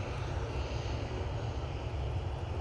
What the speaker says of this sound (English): I can see that 777-300. This one's going to get moving any second now